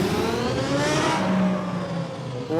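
A turbocharged car with a 64,000-horsepower engine pulls hard under acceleration, a steady loud roar with rising engine tones and no talk over it.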